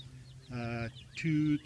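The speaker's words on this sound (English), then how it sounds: "I have about 23 chicks, I think, right now." Young chicks about two to three months old give two short, close clucking calls, one after another.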